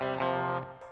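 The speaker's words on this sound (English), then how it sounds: "So here's the delay and reverb together" A Fender Professional II Telecaster electric guitar rings out one brief, bright, slightly gritty chord through delay and spring reverb, sustaining for under a second before thinning into a quieter tail.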